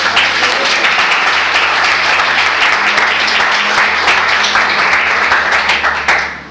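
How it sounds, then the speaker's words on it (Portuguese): A church congregation applauds during a worship service, loud and dense clapping from many people that holds steady for several seconds with a low background hum beneath it. "Você pode aplaudir o Senhor?"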